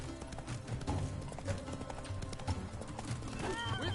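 Roach the horse trotting in The Witcher 3, a rhythmic clip-clop of hooves close by under layered game music and ambience, with a brief whinny-like sound near the end.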